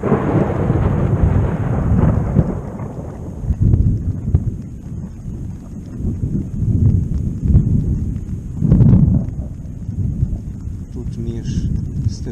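Low, heavy thunder rumbling rolls on throughout during a thunderstorm in the Balkans, echoing strongly among hills, with a louder deep boom near the end, like close thunder over wind and steady noise.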